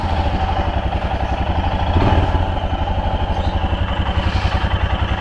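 Single-cylinder Royal Enfield Scram 411 motorcycle engine starts and settles into a loud, close, steady thumping idle with a mechanical clatter and a slight rev near the start, no voices over it.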